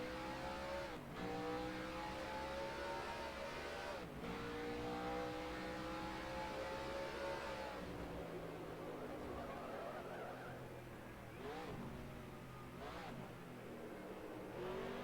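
Simulated race car from NASCAR Racing 2003 climbing through the revs as the throttle opens mid-corner, with rising engine whine and brief shift dips, a steady loud drone throughout and no talk.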